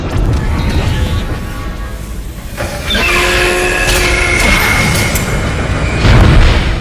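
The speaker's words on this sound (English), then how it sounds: "Replacing damaged tram car. Please stand by." A tram car arriving in the sci-fi game Dead Space, with a low rumbling boom and a rising mechanical whine of tonal hisses that swell midway and hold steady, loud and close, with no speech.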